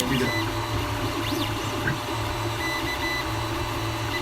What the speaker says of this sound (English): the 3D printer... I think I have audio of it on my phone